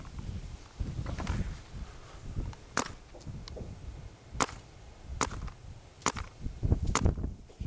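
A Dye DM10 paintball marker at just over 2,000 PSI fires in semi-auto, about 290 to 295 feet per second: roughly seven sharp, snapping shots at irregular intervals, close and loud over faint background rustle.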